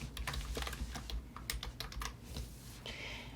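Fingers type text on a computer keyboard while setting up a card design for a Cricut Joy, in a quick irregular run of crisp, close key clicks with short pauses and no talking.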